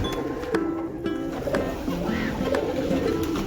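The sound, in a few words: pigeons cooing while being fed chickpeas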